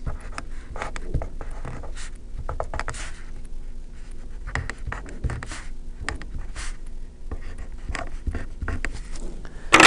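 Pen or pencil scratching on paper while an algebra equation is written by hand, soft, close and continuous, with short strokes and brief pauses.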